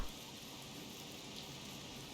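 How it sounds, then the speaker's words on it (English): Rain in the survival video game Don't Starve falls as a steady, even hiss of drops, faint and continuous throughout with no other sounds over it. "Raining."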